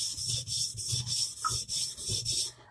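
A wide-bevel kitchen knife is drawn back and forth across a sharpening stone, giving about six even, rhythmic rasping strokes, close and clear with no talking.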